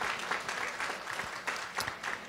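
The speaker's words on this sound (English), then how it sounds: "How about we give a nice round of applause to all of the Elderly Commission staff for the work they do" Luncheon guests at a senior volunteer recognition event clap together, moderately loud, dense applause with a few louder individual claps and faint crowd murmur, no clear speech.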